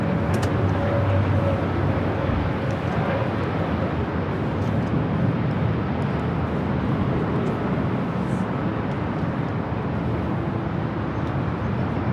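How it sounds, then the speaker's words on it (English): Delta Airbus A380 taking off from runway 24 left at Los Angeles International Airport, a steady, loud, broadband jet engine roar that holds for the whole stretch with a low rumble underneath and no voices. "the Delta A380 flight heading to Paris up next"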